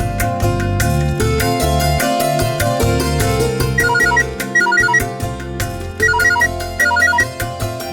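A phone ringtone melody plays loudly and without a break during the writing of gift money at a family ceremony in a Tamil TV serial. The repeating tune runs the whole time with no talk over it.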